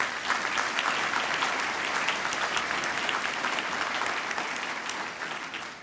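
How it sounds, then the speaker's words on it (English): An audience at a University of Houston Cougar 100 keynote event claps loudly and continuously for several seconds, a dense wash of many hands that tapers slightly at the end. "Let's give them a round of applause."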